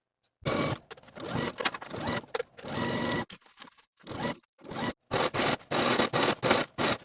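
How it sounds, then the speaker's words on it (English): A sewing machine runs in short bursts with brief pauses between, a close buzzing whir stitching steadily, without any talking. "I'm going to take it to the sewing machine and sew it"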